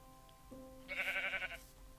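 A sheep in Minecraft gives one short, wavering bleat, close and clear against a faint steady background tone.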